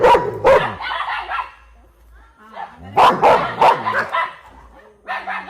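A dog barks out in the open at midnight on a hot night, in several short bursts of sharp barks and yips, with people talking and a quiet gap in between.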